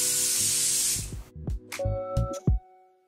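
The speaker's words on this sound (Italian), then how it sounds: "Fisso il tutto con l'acqua termale di Uriage" A thermal water mist from an Uriage spray can is sprayed to set makeup: one steady broadband hiss lasting about a second, close and fairly loud, then a few soft handling knocks and clicks.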